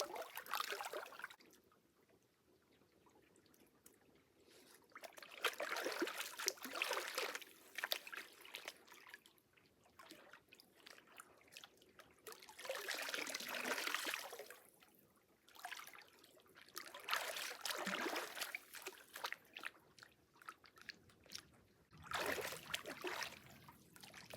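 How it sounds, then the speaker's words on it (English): Clay-filled hair being rinsed in a river, with quiet trickling and sloshing splashes coming in several separate bursts between calmer stretches of faint flowing water, close by and soft. "Now we're gonna rinse out my clay-filled hair"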